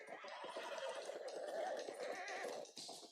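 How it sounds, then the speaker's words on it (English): A horse neighs and whinnies in the Red Dead Redemption 2 video game, a loud, shrill call lasting a few seconds, with hoof clip-clops and faint background noise around it. "One of the stallions is loose."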